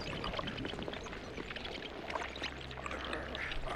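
Water rushes and pours steadily in the Alone in the Dark video game, a dense, continuous wash at an even level with no pauses.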